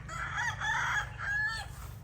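Bullstag roosters crow in a pen with bamboo fixtures, with several overlapping cock-a-doodle-doo calls close by over a low steady hum.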